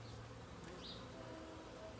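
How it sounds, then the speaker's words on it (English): Honeybees buzzing in an opened hive during a spring inspection, a steady low hum close by with a brief higher whine from a single bee passing near. "These bees are getting a bit unhappy with me"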